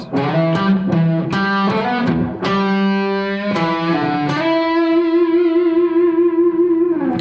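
A distorted electric guitar plays a pentatonic lick, with several picked notes and slides leading into long sustained notes that waver with vibrato. The tone is loud, close and effects-heavy, with no one talking.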